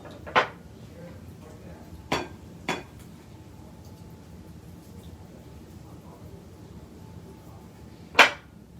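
Four eggs set one by one into a pot for potato salad, giving a few short clinking knocks spaced irregularly, faint and close against a quiet room background.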